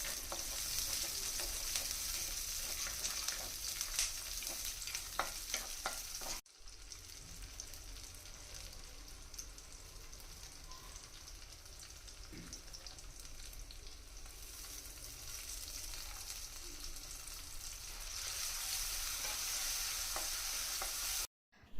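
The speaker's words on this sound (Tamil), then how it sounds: "இப்போ ஒரு கடாயில் நல்லெண்ணெய் சேர்த்து கடுகு, கொஞ்சம் வெந்தயம் அண்ட் பூண்டு கருவேப்பிலை போட்டு சின்ன வெங்காயம் கருவேப்பிலை பூண்டு எல்லாமே சேர்த்து போட்டு வதக்க போகிறோம்." Small onions, garlic, mustard seeds, fenugreek and curry leaves sauté in sesame oil in a pan, a steady close sizzle with soft stirring that drops out briefly once before continuing evenly.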